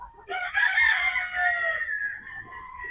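Three-quarter Sweater, one-quarter Boston game chickens on a game farm: one loud, drawn-out crow up close, with faint clucking and other birds behind it.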